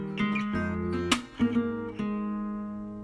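Fingerstyle acoustic guitar plays a short sequence from a song, plucked notes and a sharp percussive slap ringing out clearly, close and alone without talk.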